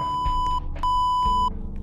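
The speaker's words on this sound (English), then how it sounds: "Oh, I hear someone beeping over there." Electronic radio beeping in a Roblox game: two long steady tones, each lasting over half a second, separated by a short gap, loud and clear with faint game background beneath.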